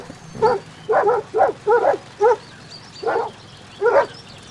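Dogs barking in the video game Minecraft, a run of about eight short sharp barks, some doubled, in an uneven rhythm, close and fairly loud.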